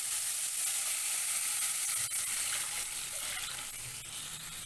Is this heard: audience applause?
no